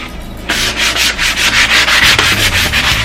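Someone sands a wooden cutting board by hand, a close, loud run of rhythmic rasping strokes back and forth that starts after a brief quiet moment.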